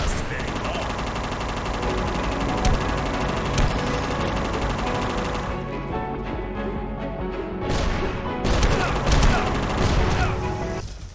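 Machine gun fire during a boss fight in the game UnMetal: sustained rapid bursts of gunfire with crashes and impacts, dense and loud, with game music underneath and a brief lull midway.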